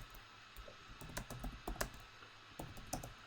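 Quick keystrokes on a computer keyboard while entering data into a spreadsheet, sounding as irregular bursts of clicks and taps with brief pauses, close to the microphone and without any voices.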